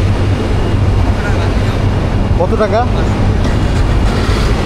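A train rolls past a level crossing as a dense, loud low rumble that fills the whole stretch, with a voice speaking briefly over it.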